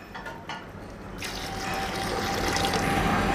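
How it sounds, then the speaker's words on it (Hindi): Water poured into a pot of partly cooked chicken and soaked rice for biryani; a steady, close rushing pour begins about a second in and keeps building until the end, with no talking. "और डालेंगे इसमें पानी"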